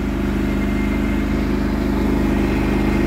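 A Cub Cadet GT2544 garden tractor fitted with AGRO tires drives along a road, its engine droning steadily and loudly up close with a constant low throb and no voices.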